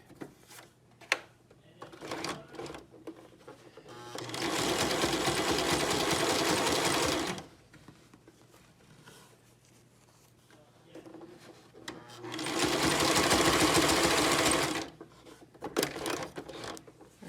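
A sewing machine zigzag-stitches a fabric mask in two loud, steady bursts of rapid mechanical whirring, each about three seconds long, separated by quieter handling and fabric rustling.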